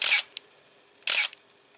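A camera shutter firing at 1/500th of a second, heard twice up close: two sharp mechanical clacks a second apart, each with a brief double snap, and a tiny tick in between against a quiet background.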